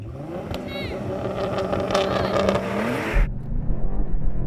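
A Porsche 911 Turbo S launches hard off the line at a drag race start, its engine revving up loudly for about three seconds before cutting off, with excited voices calling out over it.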